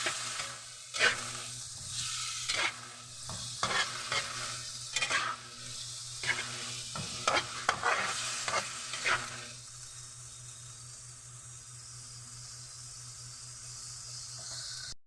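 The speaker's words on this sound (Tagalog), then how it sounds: "Haluin lang natin ng mabuti" Pork adobo sizzles steadily in a hot pan while a utensil stirs it, scraping and clacking in irregular bursts for about nine seconds before the frying hiss carries on alone.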